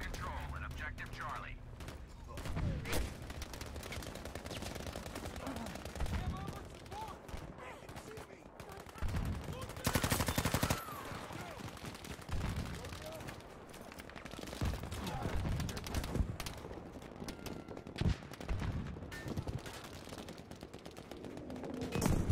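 Rapid gunfire and explosions from a Battlefield 5 match, dense bursts and volleys with a loud blast near the middle, mixed with a player's voice talking excitedly over the action.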